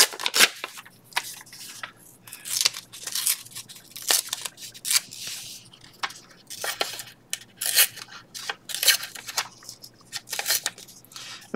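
A small piece of material is torn off while loading a junk journal, producing a run of crisp, close ripping and rustling bursts at an irregular rhythm with quiet gaps between them.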